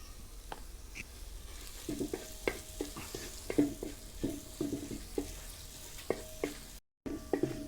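Garlic and turmeric fry in a pan for shrimp rice, a soft steady sizzle broken by regular scraping stirs of a spoon, close up with no voices.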